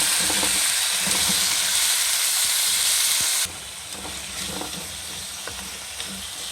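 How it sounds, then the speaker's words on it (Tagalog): Chicken pieces sauté in a pot for Filipino tinola, giving a loud, steady frying sizzle and hiss that drops to a softer level about halfway through, with no talking. "lagay na natin yung chicken natin. Pasaluin na natin"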